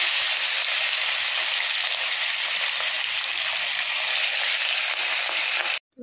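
Salted, turmeric-rubbed fish sizzle in hot oil with a loud, steady, dense hiss that stays close and unbroken, then cuts out abruptly at the end.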